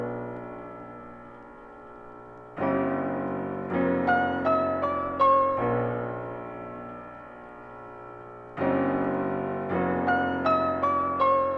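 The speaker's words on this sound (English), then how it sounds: "the piano sounds like this" Contact piano on a Narpier Dark preset, pitched slightly up, plays strummed chords in a dark, sustained pattern with quick rolled notes rising on some chords, clear and solo with no voices.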